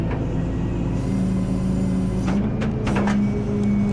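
A rollback tow truck lowers its bed to unload a wrecked Nissan Altima, with a loud, steady engine and hydraulic drone running throughout and a few clanks and hisses on top.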